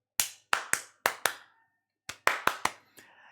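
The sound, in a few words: loud hand claps close to the microphone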